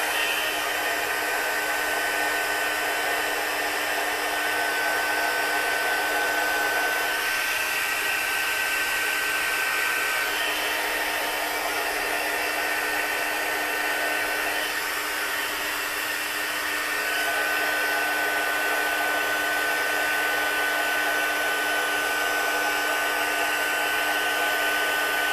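A craft heat tool blows steadily for a long stretch as it heats a glittery mermaid card, a loud, constant whooshing roar with a faint whine and no speech.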